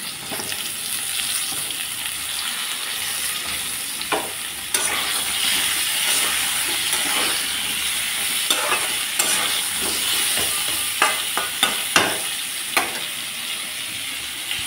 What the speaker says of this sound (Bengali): আলুগুলো অল্প ভেজে নিয়ে আমি এর মধ্যে পটলগুলো ভেজে নেব।